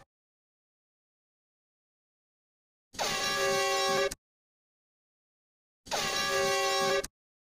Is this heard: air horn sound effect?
yes